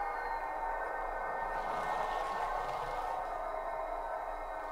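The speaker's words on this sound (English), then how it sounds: "So we're going to press the F4 key. And you're going to hear that prime mover drop." A model diesel locomotive with a Tsunami2 sound decoder plays a steady, faint prime mover hum whose pitch sinks slightly midway as the engine drops, with no one talking.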